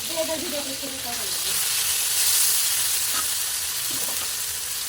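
Ginger, garlic and cumin paste frying in hot oil for dal gives a steady broadband sizzle and hiss. It runs continuously through the stretch and swells slightly in the middle, with a faint voice early on.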